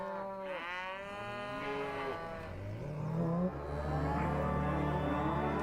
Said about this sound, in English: all the cow sounds you hear were actually recorded on Skywalker Ranch